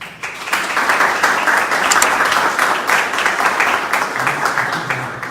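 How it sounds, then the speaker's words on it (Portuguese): Congregation at a prayer group applauding to welcome a newcomer, a dense round of clapping that swells quickly and holds steady for several seconds, close and loud, with a few voices audible at the end. "Nós queremos acolher com uma salva de palmas, né?"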